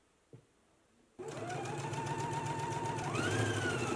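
A domestic sewing machine runs a basting stitch along sleeve binding on a McCall's M8658 garment, starting after a brief click and then whirring steadily close by, rising slightly in speed near the end.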